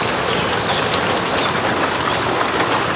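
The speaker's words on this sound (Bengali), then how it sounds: "বৃষ্টি বৃষ্টি বৃষ্টি তাড়াতাড়ি রান্না করো।" Steady, dense rain pours down outdoors in the morning, a constant close hiss of drops on surfaces with faint bird calls in the background.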